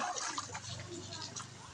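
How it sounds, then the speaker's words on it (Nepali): Floodwater rushes over a bridge in a continuous, broad roar of flowing water, fairly close and steady throughout. "पुल माथिबाट पानी गइरहेछ"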